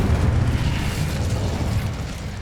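Confringo blasting spell exploding in the game Hogwarts Legacy, a loud, deep boom with a heavy low rumble that fades gradually over a couple of seconds.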